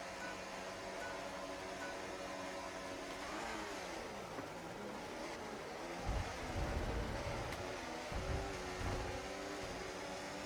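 Race car engines roar together at the start of a Formula 1 race in the F1 24 video game, a steady dense blend of high revving that swells louder with deeper rumbles partway through, with no talk.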